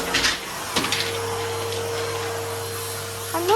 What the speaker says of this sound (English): let's vacuum. You might want to turn your volume down.